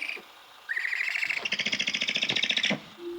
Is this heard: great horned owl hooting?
yes